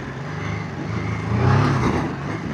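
A BMW F450 GS motorcycle engine revs steadily, swelling to a louder peak midway before easing back, heard close with no talk.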